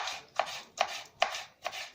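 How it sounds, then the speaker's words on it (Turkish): Four sharp knife chops through onions on a cutting board, cut into large cubes, evenly spaced about every 0.4 seconds, close and crisp, with no talking. "Soğanlarımızı da küp küp biraz geniş bir şekilde doğruyoruz"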